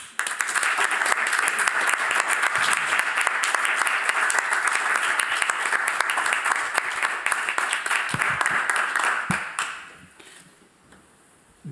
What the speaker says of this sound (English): please join me in a warm round of applause for Dr.